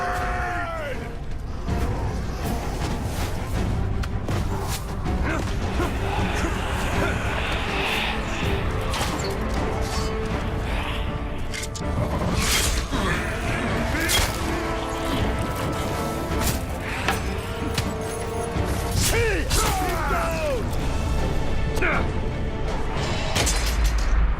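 Heavy crashes, booms and creaking mechanical clatter as a gate is smashed apart in Middle-earth: Shadow of War, dense and continuous with repeated sharp impacts over a loud battle din.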